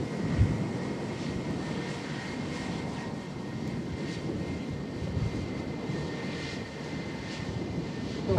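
Steady, rumbling jet engine roar of an airliner landing at Manchester Airport from London Heathrow in stormy, windy weather, continuous and moderately distant with wind noise and no talking.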